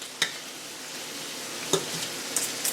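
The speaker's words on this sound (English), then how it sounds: "So I just was getting my fork and cutting everything like so." A fork scrapes through chicken and steak frying in a pan, a steady soft sizzle broken by a few sharp metallic clinks against the pan, close and fairly quiet, with no talking.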